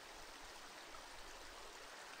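The Andritzbach brook in Andritz flows steadily, a soft, even rush of running water with no voices, faint and constant throughout.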